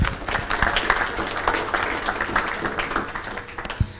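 Audience applause in a hall after a presentation on dismantling the Phénix reactor at Marcoule, a dense, steady patter of many hands clapping for four seconds with no voices over it.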